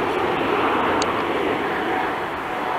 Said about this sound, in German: jetzt haben wir hier doch noch ein Flugzeug